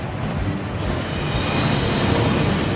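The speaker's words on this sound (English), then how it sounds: "That waterfall washes away all enchantments." Steady broadband rush of a waterfall in the video game Hogwarts Legacy, a continuous wash of falling water that swells slightly louder toward the end, with no other sounds on top.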